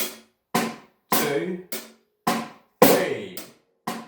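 A drum kit plays a hi-hat and snare pattern in a lesson, with about eight crisp, evenly spaced strikes, each ringing briefly before the next, heard clearly and close.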